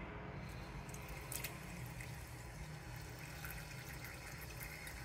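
Cold tap water runs steadily into a container for washing freshly harvested edamame, a continuous close splashing wash with no voices.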